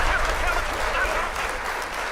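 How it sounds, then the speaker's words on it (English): An audience claps during a studio conversation about music streaming, a steady, fairly muffled wash of applause with a low rumble underneath that eases off slightly toward the end. "one more round of applause for you"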